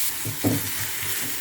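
Tomatoes sautéed in a kadai for a vegetable raita crackle with a soft, steady sizzle, broken by a brief stir scrape, close and fairly quiet.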